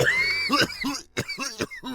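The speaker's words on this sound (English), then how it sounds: "To my concern, the cough seemed to stretch on and on." A drawn-out fit of harsh coughing from one person, a string of rough, breathy bursts with short gasps between them over about two seconds, close and fairly loud with no talk.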